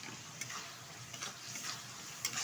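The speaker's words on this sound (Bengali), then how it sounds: "মশলার সাথে এই কাজুটা কষিয়ে নিচ্ছি" Whole cashews are sautéed with spice paste in a pan for cashew chicken: a soft, steady sizzle broken by repeated light clicks and scrapes of stirring.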